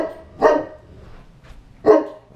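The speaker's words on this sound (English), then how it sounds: "The dog's barking for a reason." A dog barks twice, loud and close, with a pause between the two barks and no talking.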